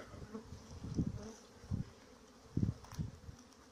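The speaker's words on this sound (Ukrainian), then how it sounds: "Тут інтенсивний обліт, там теж. Да, Гул стоїть." Honeybees hum during an orientation flight at the hive in an apiary, with a steady buzzing drone and louder swells as bees pass near the microphone, and no talk.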